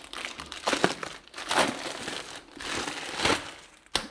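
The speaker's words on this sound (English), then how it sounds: "Now we can take the back box and take it out of its plastic." Plastic packaging crinkles and crumples around an in-wall speaker back box as it is unwrapped, in several close bursts of rustling with a sharper crackle at the end.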